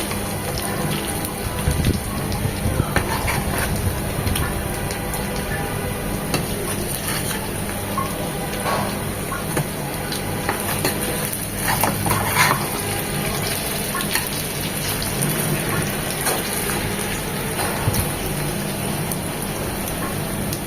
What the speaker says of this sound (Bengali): ওই পাশটাও এরকম চার থেকে পাঁচ মিনিট ভেজে নেব